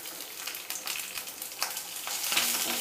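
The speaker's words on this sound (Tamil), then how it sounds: "இப்போ இந்த வெங்காயமும் பச்சை மிளகாவையும் சேர்த்துடலாம்." Onions and green chillies sauté in a pan with bay leaves while making chana masala: a steady, close frying sizzle with occasional stirring scrapes, and no talking.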